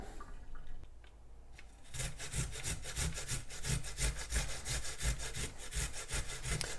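Unpeeled ginger root rubbed on a cheese grater in rapid, rhythmic rasping strokes, loud and close after a quieter start.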